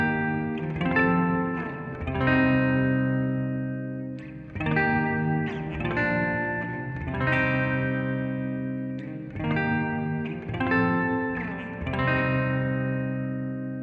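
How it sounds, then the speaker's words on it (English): A guitar runs through a UAFX Heavenly Plate reverb pedal set to a long decay for a pad sound, with a few sustained chords swelling into a smooth, lingering wash, and no voices. "Let's pull the mix down a bit for a more normal sounding reverb and then push the decay up to try and get a nice pad sound"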